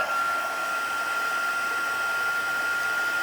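Heat embossing dryer blowing in a steady, loud, continuous whoosh with a faint high whine, alone with no talking.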